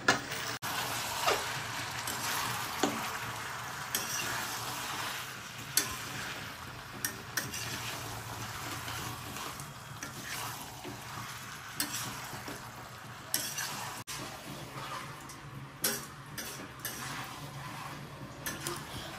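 Potatoes and mutton stir-fried in a pot, a soft continuous sizzle with scattered spatula clicks and scrapes against the pot, quiet and steady throughout with no voices.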